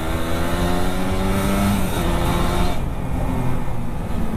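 A Kawasaki Ninja motorcycle at full throttle on the Karaeng Malombassang circuit in Pangkep gives a loud, sustained engine roar that holds steady throughout with no pause.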